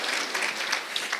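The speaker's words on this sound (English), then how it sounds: "Let's give a round of applause to Tim Haddock." Audience applause for Tim Haddock at a school teacher of the year celebration, a brief dense patter of many hands clapping at steady volume.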